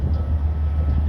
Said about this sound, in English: we do get to see a Florida East Coast gravel train. Looks like a unit train.